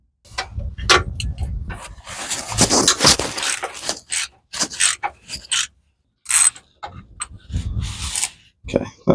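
Ratchet clicks and metallic scraping while removing transmission bolts under a Volvo V70 on a driveway, coming in irregular bursts separated by pauses, with someone talking between them.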